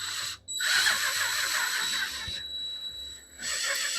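A power drill whirs in bursts with a high whining tone, starting, stopping briefly and restarting, close and fairly loud, during a Subaru clutch master cylinder install, no voices.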